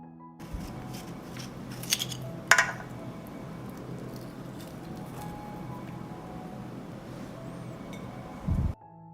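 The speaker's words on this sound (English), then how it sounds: "I will pit the plums." Fresh plums being pitted in a home kitchen give quiet wet squishes and a few sharp clicks and clinks of a blade, with a brief louder clatter near the end.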